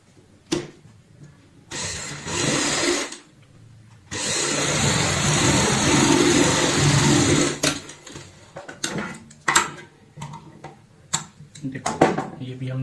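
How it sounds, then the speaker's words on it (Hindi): A sewing machine stitches the edge of a homemade ladies party bag in loud bursts of rapid whirring, separated by short pauses and followed by scattered clicks and handling noises. "यहाँ पे ऐसे सिलाई लगाएंगे किनारी की"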